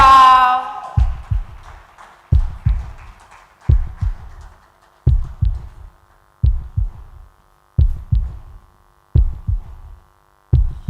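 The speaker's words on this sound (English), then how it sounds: "Reduce the heartbeat." Heartbeat sound effect booming through a pageant hall's speakers, a loud, regular lub-dub pulse repeating about every second and a half after a short opening chord.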